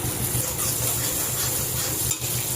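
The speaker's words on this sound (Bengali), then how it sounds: "এবারে লঙ্কাটা কষিয়ে নেবো, যে পেঁয়াজটা ভাজতে দিয়েছি" Chilies and onion fry and sizzle in a pan, a steady close crackle with soft stirring scrapes running throughout, no voices.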